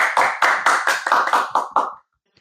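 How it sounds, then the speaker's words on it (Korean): Close, sharp hand claps ring out about eight times in a quick even rhythm, each with a short ringing tail, then stop abruptly into silence, offered as applause of support on a Korean queer theology question-and-answer programme. "응원의 박수를 좀 할까요?"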